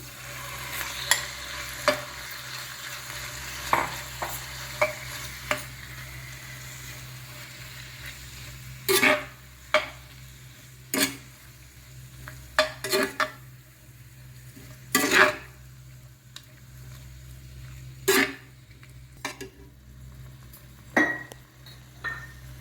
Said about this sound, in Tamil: இப்போ நாம் ஊற வச்சிருக்கிற அந்த பிரானை சேர்த்துடலாம்